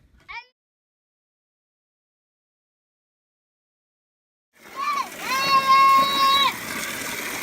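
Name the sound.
water splashing while filling up the ducks' pond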